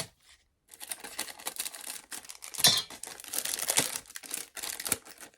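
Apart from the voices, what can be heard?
opening a plastic-wrapped item from a haul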